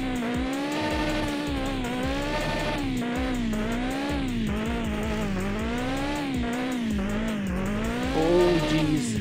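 A car drifting freestyle in the game Mon Bazou with low front tire pressure; the engine revs rise and fall repeatedly in a wavering, steady drone with faint tire noise throughout.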